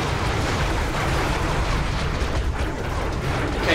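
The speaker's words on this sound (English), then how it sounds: "And massive missile shooting Goliaths." Missile explosions from Goliath enemies in the VR shooter Serious Sam VR, a continuous loud roar of blasts and rumbling debris with no pauses.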